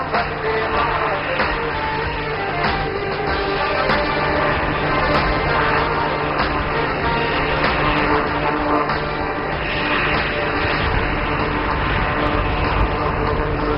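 HAL light utility helicopter, with main rotor and bearingless tail rotor, in a flying display at the Aero India air show at Yelahanka Air Force Station; a steady, dense engine and rotor roar that continues without a break.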